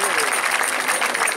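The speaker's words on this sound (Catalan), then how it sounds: "Volem un fort aplaudiment per Pepito, lo moïno, per de cor de les Camaraes de Vinaròs" Festival audience applauding a performer at Les Camaraes festival in Vinaròs, dense continuous clapping with a voice faintly audible beneath it.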